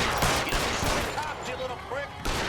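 Gunshots ring out in a rapid burst of several sharp cracks during a looter shootout in L.A. Noire, fairly loud against a busy street backdrop.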